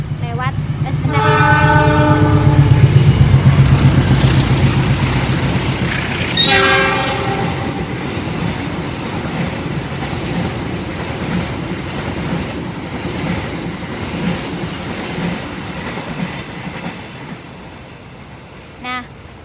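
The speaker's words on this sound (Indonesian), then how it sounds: "ini ada kereta lewat sebentar" A train passing close by, its horn sounding in long blasts, then a second horn burst, followed by rumbling wheels and clickety-clack that gradually fade away.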